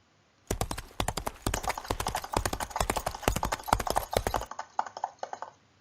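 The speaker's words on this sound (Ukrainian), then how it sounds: "Це кінь, ми чуємо його топіт." Rapid hoof clip-clops of a horse, a dense run of sharp knocking steps, close and fairly loud, with no voices.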